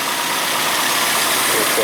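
A 2004 Nissan Frontier 2.4L truck engine idles steadily and fairly quietly after a water pump repair, a smooth even hum heard up close throughout, with a voice speaking over it.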